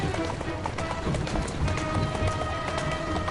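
Galloping horse hooves in the video game Assassin's Creed Syndicate, a fast, continuous clatter heard close over a busy game soundscape.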